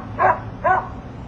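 A puppy gives two short yipping barks with a whining edge, close and fairly loud, spaced about half a second apart against a quiet background.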